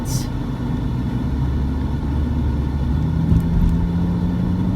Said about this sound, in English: can this big truck get out of my way?